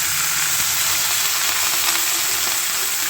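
Mixed vegetables for Bengali shukto fry in a pan with turmeric and ginger, giving a steady, loud, close sizzle that holds unbroken and even throughout, with no voices.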